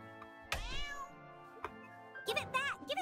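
A cartoon cat in the South Park: The Stick of Truth video game meows twice, a long drawn-out cry near the start and a cluster of sharper meows at the end, with a brief short mew in between.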